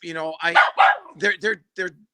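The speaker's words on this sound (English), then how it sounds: "Between Leo's car ride and your dog, we've had a lot of external noise today." A nearby dog gives about six loud, sharp barks in quick uneven bursts.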